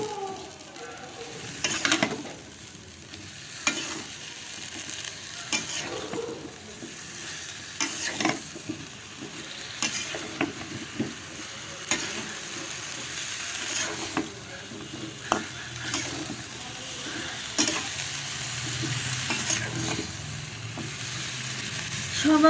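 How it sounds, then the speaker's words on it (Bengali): Vegetable curry with spices stir-fried in a pan, a steady low sizzle broken by repeated scraping and stirring strokes at an irregular pace, close by and moderately quiet. "এই যে আমি এখন তরকারি দিয়ে দিলাম, দিয়ে এখন আমি ভালো করে কষে নেব।"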